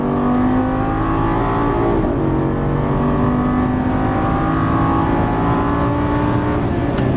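Lamborghini Gallardo LP550 engine accelerating out of a turn on a racing track, a loud continuous roar with rising harmonic tones held close for several seconds.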